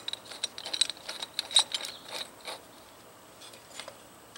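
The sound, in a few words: tightening knurled knob on TexSport folding saw blade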